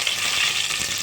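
Onion pieces fry in hot oil in a pan, making a loud, steady hiss of sizzling with no speech.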